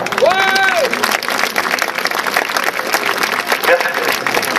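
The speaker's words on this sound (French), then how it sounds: "On peut l'applaudir." An audience at a Roman-day re-enactment in Saint-Macaire applauds in a lively outdoor crowd, steady clapping with a voice talking over it near the start.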